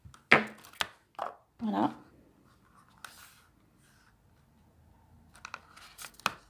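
Washi tape being cut and torn by hand while decorating an envelope, a few short crisp snips and rips, close and fairly quiet, with a brief spoken word near the end.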